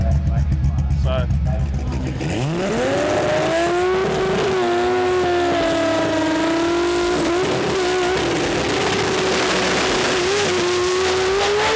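Drag race car at a Sydney jamboree launching with a clutch and accelerating hard down the strip, a loud rising engine roar that climbs steadily in pitch for about ten seconds after a brief idle and crowd noise at the start.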